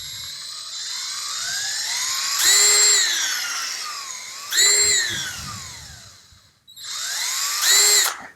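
A Bauer 20V lithium half-inch cordless drill whines in three separate bursts, each one rising in pitch as the motor speeds up, with brief lulls where it winds down between runs.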